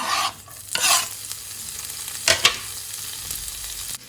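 A cumin tadka for moong dal hisses in bursts as more ingredients go in, with scraping strokes of a spoon stirring the pan between the sizzles. No voices.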